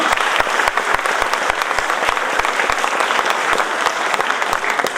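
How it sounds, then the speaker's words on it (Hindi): Loud, dense applause from a crowd at a Dr. Ambedkar Jayanti celebration, continuous clapping that holds an even, vigorous level from start to finish with no voices over it. "गुणगान करने वाली टीम के लिए एक बार फिर से जोरदार तालियां।"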